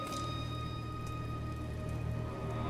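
Steady rain in the video game God of War patters on a surface, a continuous hiss of drops with a low hum beneath, no voices.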